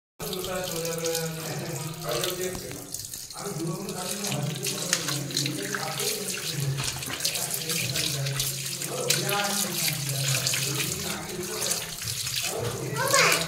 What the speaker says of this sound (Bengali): মাংস নিয়ে চলে এসছি, এই এক্ষুনি এসছি মাংস নিয়ে। এবার আমি মাংসগুলো ধোবো।